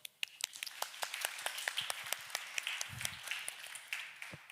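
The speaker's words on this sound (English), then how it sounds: "I would like us all to just have a round of applause for the organizers and volunteers" Applause for organizers and volunteers at a web accessibility conference; scattered distinct claps from a small-sounding audience, fairly faint and distant, with a brief low murmur partway through.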